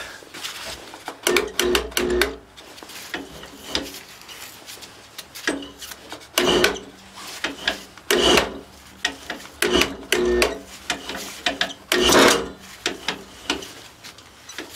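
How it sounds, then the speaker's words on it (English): A bottoming tap is turned by hand into a half-inch by 13 thread in a steam engine cylinder, giving close, rhythmic scraping and rasping strokes, each a short burst of metal-on-metal grinding, repeated steadily with brief pauses between. "So let's tap that half inch by 13 for the bottoming tap."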